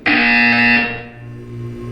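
A loud, harsh buzzer from the Portal 2 video game blares for nearly a second, then decays into a lingering, fading tone.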